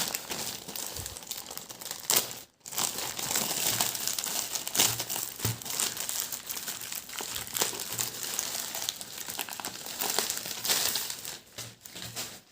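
Crinkly plastic of a Daraz delivery package being handled and torn open to reach vape graphic stickers inside, a steady close rustling and crumpling that runs almost throughout with one brief pause.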